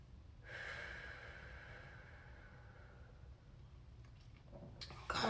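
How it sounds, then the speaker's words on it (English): One long, deep, audible breath drawn in close to the mic before a prayer, followed by quiet and a faint rustle at the end. "after I take a deep breath"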